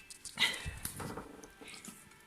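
A pet dog whimpers and whines in a home kitchen, a short high-pitched cry near the start followed by softer intermittent whimpers and snuffles.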